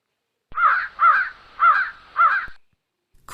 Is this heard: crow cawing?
yes